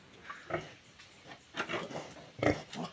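Piglets on a farm squeal and grunt in several short, separate bursts at close range, with quieter pauses in between and no talking.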